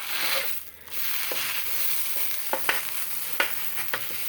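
Steady, close sizzling of bacon frying on a hot griddle, with a few sharp scrapes and clicks of a spatula over the hiss.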